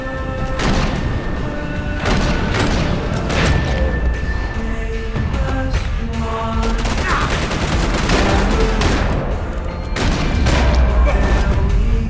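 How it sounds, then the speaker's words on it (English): Max Payne 3 combat: a grenade explosion and bursts of gunfire erupt repeatedly, loud and close, with sharp cracks, heavy booms and crashing debris layered densely throughout. "Grenade."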